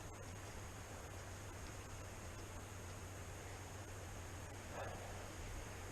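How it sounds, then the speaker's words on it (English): Steady, faint rushing of a distant waterfall near Sky Pond in Rocky Mountain National Park, amid snow and ice, forming a constant even wash of noise with no other sounds. "we can hear the waterfall up at the top."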